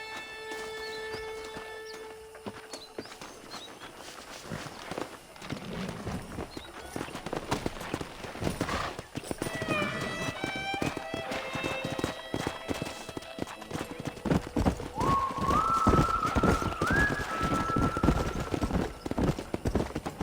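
Steady horse hoofbeats clip-clop throughout in Red Dead Redemption, joined by a horse's whinny, with tonal game music in the background.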